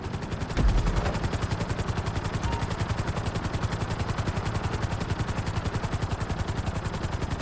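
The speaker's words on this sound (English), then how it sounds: "we'll see how well you handle the chopper" Helicopter flying in the video game Grand Theft Auto V during a flight-school course: a steady, loud rotor chop with rapid rhythmic thumping that continues throughout, with no talking.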